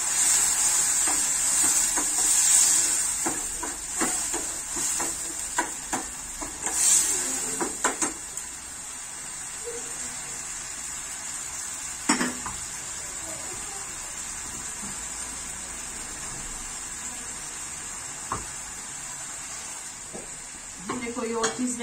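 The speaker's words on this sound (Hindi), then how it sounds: "बस दो से तीन मिनट इसको भूनेंगे।" Soybean chunks coated in yogurt and masala gravy are fried in a pan with a continuous soft sizzle and hiss, broken by occasional scrapes and clinks of stirring, close and steady.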